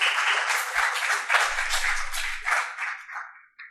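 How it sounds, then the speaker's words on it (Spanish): An audience at a children's literature congress panel applauding a speaker, a dense, steady wash of clapping from many hands that gradually tapers off. "Un fuerte aplauso para Paulo César Peña."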